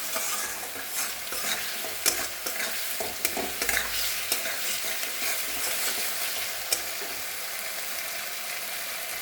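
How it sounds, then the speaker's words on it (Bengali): Onions frying in a pan for red lentil dal give off a constant hissing sizzle, with frequent stirring scrapes and clicks from a spoon close by, and no talking. "এটাকে আমি ভালো করে আমি অল্প ভাজবো এটাকে পেঁয়াজের"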